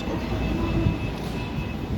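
Metro train in motion, heard from inside: a continuous dense rumble and roar with a faint steady high whine, no clear pauses, no talk.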